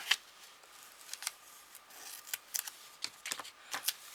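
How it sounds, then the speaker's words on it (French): Quiet, irregular snips of scissors cutting paper, a dozen or so crisp clicks scattered over a few seconds, close by with no talking. "On va plutôt prendre les ciseaux, ça va aller mieux."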